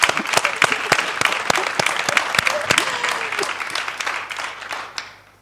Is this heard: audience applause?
yes